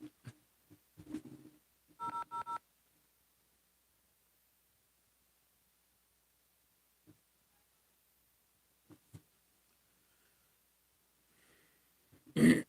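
A telephone keypad sounds a short burst of dialing tones early on, followed by long near-silence broken by a few soft clicks and a loud throat-clearing noise at the end.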